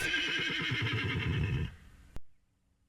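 A loud, close horse neigh sound effect whinnies in a long quavering burst, trails off, then a sharp click cuts it to silence.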